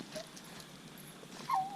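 Coon hunting dogs out at night, faint distant baying and whimpering across open ground, rising into a clearer drawn-out howl near the end.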